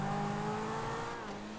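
A car engine in GTA V revs steadily and close up, a sustained droning tone that holds at a fairly even pitch for under two seconds, with no talking over it.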